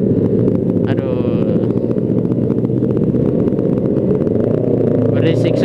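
A loud motorcycle exhaust fitted with an underbelly muffler drones steadily and close throughout, with wind buffeting the microphone.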